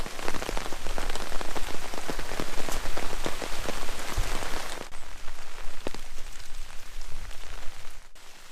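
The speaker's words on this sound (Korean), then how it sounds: "비가 와서 그렇지" Steady heavy rain pours at a mountain temple near the path to a rocky peak, a dense continuous patter of drops on surfaces, loud and close throughout with no voices.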